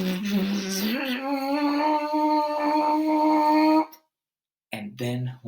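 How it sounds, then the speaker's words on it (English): Trumpet mouthpiece buzzed on its own with no horn: a steady, nasal tone held for several seconds, sliding slightly in pitch, then silence and two short buzzed notes close up. "once we get good at that, we can put that buzz onto a mouthpiece"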